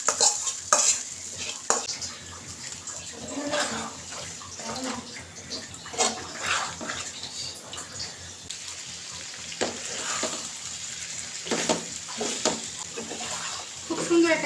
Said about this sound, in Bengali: এই বাগারটা আমি এখানে ঢেলে দিব মাংসের উপরে